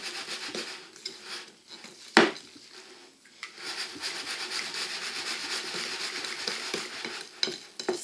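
Batter for a dark chocolate pavé Breton cake gets stirred slowly in a large bowl, soft rubbing and scraping strokes with an occasional sharp knock of the utensil against the bowl, close and quiet.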